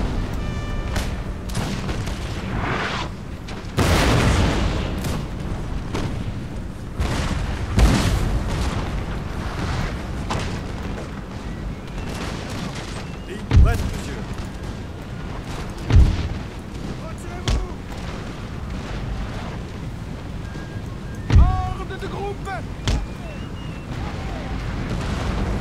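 Artillery cannons fire in a Napoleon: Total War battle during the Egypt campaign, with repeated booms and a few sharp louder blasts scattered over a rumbling, crackling battlefield din, while someone talks throughout.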